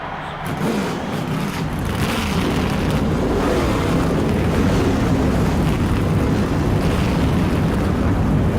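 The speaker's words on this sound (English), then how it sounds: "The engines have fired here at Dover Downs, Delaware, and 43 drivers are ready to do battle with the monster." A field of 43 stock car engines at Dover Downs, Delaware, in the NASCAR Thunder 2003 racing game, roaring together in a thick, sustained rumble after a brief quiet start, loud and unbroken with no talk over it.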